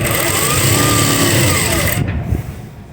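A sewing machine stitches gathers on a baby yoke frock with a loud, close, steady motor whir and rapid needle hum that cuts off abruptly partway through.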